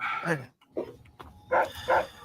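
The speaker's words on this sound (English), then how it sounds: "That is a fucking big dog." A big dog barks a few times close by, the loud woofs arriving in separate bursts with short pauses between them, with a little voice and room noise in between.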